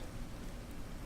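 Steady rain falling in a Lord of the Rings video game, a dense continuous hiss with no other sounds.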